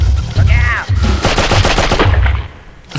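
Enemies open fire in the video game Oddworld: Abe's Oddysee, a loud burst of rapid gunfire lasting about a second, mixed with other game sounds and some vocal noise.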